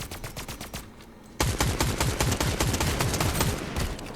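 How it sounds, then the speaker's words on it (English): Rapid machine-gun fire in the Fortnite video game, loud close bursts of evenly spaced shots that break briefly and then resume in a dense, sustained volley. "Somebody is shooting at something, but I have no idea what."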